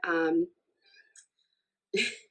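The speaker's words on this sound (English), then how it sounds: "you can probably hear Winnie meowing" A cat meows loudly twice, a drawn-out call at the start and a shorter one near the end, with faint rustling in the quiet between.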